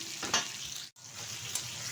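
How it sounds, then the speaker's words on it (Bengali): Pieces of pointed gourd frying in oil, a steady close sizzle with a brief scrape of stirring and a short silent gap partway through. "পটলগুলো ভাজা হয়ে গেছে"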